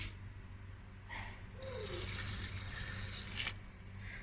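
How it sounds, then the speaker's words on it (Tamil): Water pours steadily into a tumbler, a soft splashing stream with rising hiss, over a low background hum. "ஸோ ஒரு டம்ளர் தண்ணி விட்டாச்சு."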